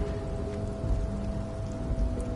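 Steady rain falls in the Disco Elysium video game, a constant even hiss of drops with a low ambient hum underneath and no other distinct events.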